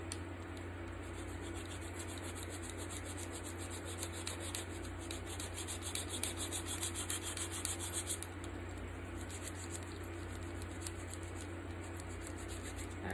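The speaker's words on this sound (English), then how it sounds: "probably need to get another nail file because this one's a little old, but again, it's getting the job done" A worn, slightly old nail file rasps steadily across fingernails, the close, even scraping repeating throughout with a low hum underneath and no one talking.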